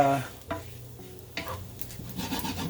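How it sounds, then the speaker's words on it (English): A roux of fat and flour for sausage gravy cooks in a pan with a low, soft sizzle, punctuated by a few scraping stirs of a utensil at irregular intervals, quiet and close with no voices. "as with any roux, you always want to let it cook for at least a few minutes."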